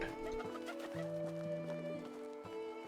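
Clucking fowl calls from the video game Medieval Dynasty, short repeated throaty clucks over a sustained musical drone, fairly close and layered with ambient game sounds.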